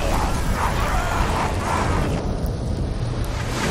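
Fire attack against a group of enemies in an action video game, a loud continuous roaring whoosh of flame with crackling bursts, dense and sustained for several seconds before thinning slightly.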